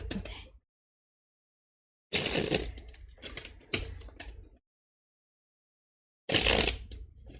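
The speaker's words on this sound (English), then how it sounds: "I'm having a hard time with this shuffle." A deck of tarot cards riffled and shuffled by hand in separate bursts of crisp, rapid flutter and clicking, with long silent gaps between attempts, close up and alone.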